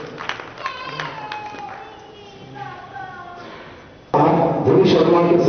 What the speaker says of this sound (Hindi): धनी शर्मा के स्वागत में इतनी प्रतिध्वनि है तालियों से